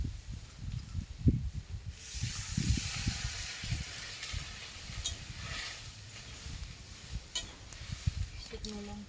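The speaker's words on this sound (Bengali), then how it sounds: "কড়াইয়ে পাঁচ ফোড়ন দিয়েছিলাম" Whole five-spice tempering sizzles in hot oil in a wok while a crab dish is prepared, giving a soft hiss with bursts of crackle. A low murmur sits underneath.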